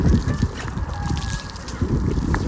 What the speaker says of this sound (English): And she just started crowing.